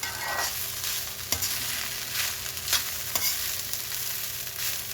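Rice for sinangag fries with a steady sizzle in a pan, while a utensil scrapes and stirs in irregular strokes up close.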